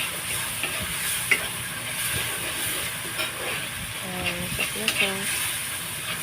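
An egg fries with potatoes in a nonstick pan for a home-cooked dinner, a steady close sizzle and hiss with small stirring scrapes, while a voice briefly speaks over it.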